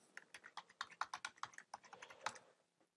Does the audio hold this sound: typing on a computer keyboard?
yes